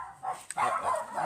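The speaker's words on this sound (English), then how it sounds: "The dog." A dog barks indoors during sun visor reupholstering work: a couple of short, close woofs over roughly a second, with a brief yip-like note between them.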